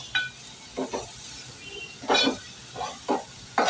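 Ground masala paste for a mixed sprouts curry stirred in a hot pan, with bursts of sizzling hiss as it is turned over, several spaced surges, close by, with no talk.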